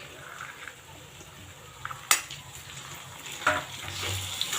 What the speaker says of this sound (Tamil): இப்போ தக்காளி போட்டு நல்லா வதக்கிக்கலாம்